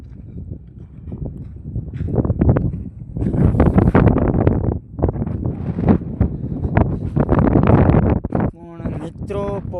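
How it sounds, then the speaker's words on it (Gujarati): Wind gusts buffet the microphone outdoors during a walk near a solar plant, a steady rough rumble that swells and dips across the whole stretch. "પવન આવે છે"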